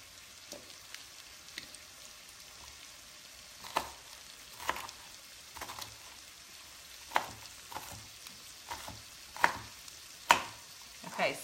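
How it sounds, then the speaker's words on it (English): Steady sizzling of sausage browning in a pan, broken by sharp scrapes and clacks of a utensil stirring at irregular intervals. "Go ahead and keep browning this."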